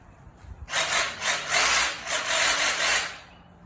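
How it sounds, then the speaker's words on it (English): A Sawzall reciprocating saw rips through wood in several loud, close bursts with brief dips between strokes, running steadily for about three seconds before stopping. "Let's start off with my handy Sawzall."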